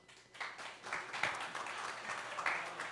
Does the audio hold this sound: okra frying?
no